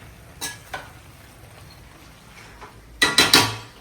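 A country chicken curry with coriander is stirred in a pan: a few faint scrapes and clinks early on, then a short loud burst of sizzling, scraping metal-on-pan sounds near the end.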